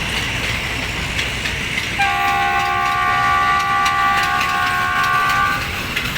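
Diesel locomotive 4218 pulls local train 447 out of a junction station, its engine rumbling under the rolling of the wagons, while a long horn blast of layered tones sounds partway through.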